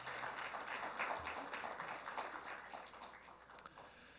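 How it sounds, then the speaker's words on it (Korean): Applause fills a hall during a software industry award ceremony as a company head is called to the stage, a steady wash of many hands clapping at moderate distance and fairly even loudness throughout. "큰 박수로 무대로 모시겠습니다."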